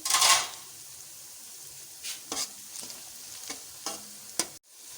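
Spices added to onions frying in a pan, with a soft background sizzle broken by a handful of distinct spoon scrapes and clinks against the pan, close and fairly quiet.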